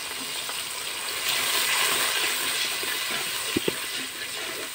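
Salt, turmeric and ginger-garlic paste being stirred and fried in a hot pan for chicken pilaf, a steady broad sizzle throughout with a couple of brief clinks of the spoon near the end.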